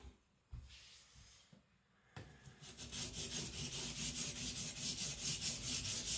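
A custom Patrik Carlvik Niolox steel nakiri knife is ground on a Sharpen Pro 220 whetstone. A few scattered scrapes give way to steady, rapid, rhythmic rasping strokes, close and fairly loud, with no talking.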